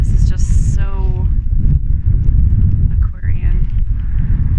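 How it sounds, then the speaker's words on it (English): Loud, continuous low rumble of wind buffeting a microphone outdoors on a cold day, with a voice talking over the blustery noise. "It's never windy here, and it's windy right now"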